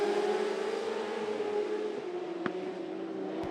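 Several 600R mini sprint cars race in a heat on a dirt oval, engines roaring together in a loud, steady, high-pitched drone with shifting pitch and a couple of sharp clicks.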